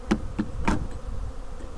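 Honey bees in an open spring hive buzz in a soft background hum, with a few short sharp knocks or taps from handling the hive near the start.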